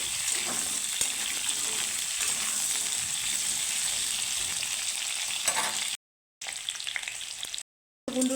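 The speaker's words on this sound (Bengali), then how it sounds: "আলু পটলগুলো আমি একটু ভেজে নিব লাল করে" Potatoes and pointed gourd sizzle and crackle steadily in hot oil, a close, continuous frying hiss briefly cut by two short silences.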